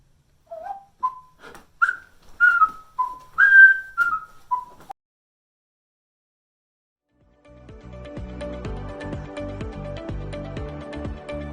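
A person whistles a short melodic tune of about ten clear, rising and falling notes, close and alone; after a few seconds of silence, background music with a steady beat starts.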